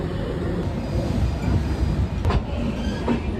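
A train rushes past on the opposite track from aboard the Pandian SF Express, a loud, steady roar of wheels and rail noise with faint clacks, heard close up throughout.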